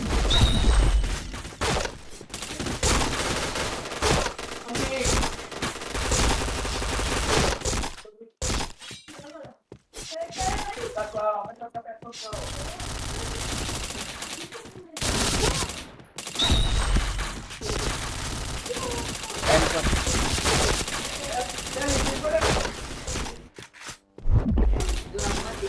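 Gunfire in a mobile shooter game, with dense bursts of shots and impacts running through most of the stretch, a short quieter gap midway, and voices talking over the action.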